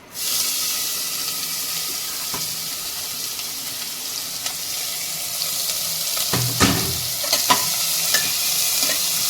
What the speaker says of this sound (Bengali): এর মধ্যে এবার আমি কুচনো পেঁয়াজটা দিয়ে দেবো